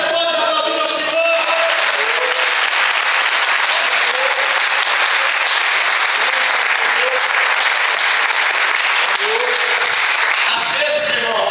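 A church congregation applauding during a Sunday communion service, loud continuous clapping with whoops and shouts mixed in, sustained for over ten seconds.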